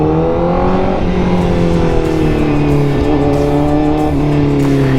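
A motorcycle engine revs steadily under the throttle, a loud, close, continuous drone whose pitch rises and dips slightly, with no voices.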